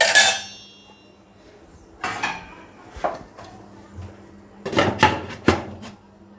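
A metal lid is set onto a pot of cooking khichuri, with a bright clang at the start followed by several separate clattering knocks of metal on metal, close and sharp, with quiet gaps between them.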